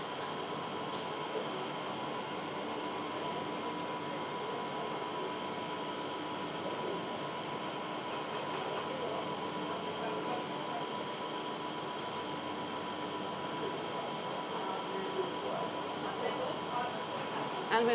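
Steady interior rumble of a train riding to Sentosa in Singapore, a continuous even hum with faint rail hiss and occasional small clicks throughout, close and unbroken.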